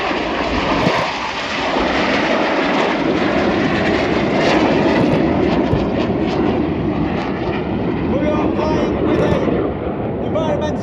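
RAF Red Arrows jets roaring through a flying display at RIAT, trailing smoke from biodegradable vegetable-oil smoke oil while burning synthetic aviation fuel, a loud continuous jet drone filling the sky throughout, with a commentator talking over it.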